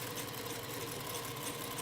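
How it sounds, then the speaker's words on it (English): A sewing machine runs a test stitch after threading, giving a continuous even mechanical whir and rattle at moderate distance, with no voices. "let's test and see if my sewing machine is threaded correctly"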